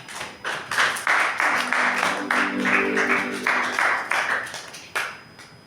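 Applause from a church congregation during a worship service, a steady wash of many hands clapping in rhythm for several seconds, fairly loud and sustained with a short break near the end.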